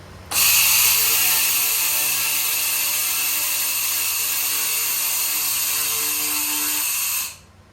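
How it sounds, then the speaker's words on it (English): xTool MetalFab laser cleaner stripping rust from an old metal pipe, a loud continuous high-pitched buzzing hiss that starts abruptly, holds steady for about seven seconds and cuts off sharply. "I was able to strip mill scale off steel and also remove decades of rust from this old metal pipe I found buried in the yard"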